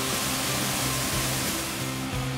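Continuous rushing water pours heavily, a dense, even roar of the Kanari waterfall in a forest in Bau-Bau, Indonesia, with no other sounds.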